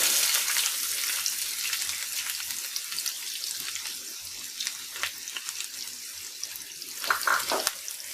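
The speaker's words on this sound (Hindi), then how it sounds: "पहले डाल रहे प्याज।" Onions frying in desi ghee in a kadai while making pizza on the stovetop, a steady soft sizzle and crackle with no talk, building slightly in bursts toward the end.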